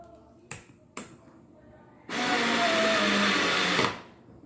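A Bosch Go V2 cordless screwdriver whirs loudly and steadily for nearly two seconds after two sharp clicks while the torque is being adjusted, with no talk over it.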